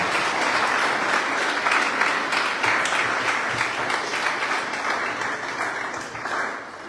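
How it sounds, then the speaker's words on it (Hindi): Loud, sustained applause from a school audience of 11th and 12th grade students welcoming a guest joining live, dense clapping that stays steady for about seven seconds before easing slightly at the end. "एक बार जोरदार तालियों के साथ उनका स्वागत करें"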